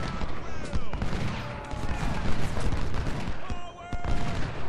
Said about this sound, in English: Another nice salvo there.